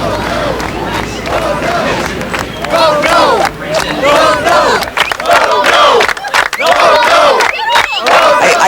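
A large crowd at a Yonkers city meeting shouting and jeering in loud, continuous waves of raised voices and chanting, with no clear single speaker.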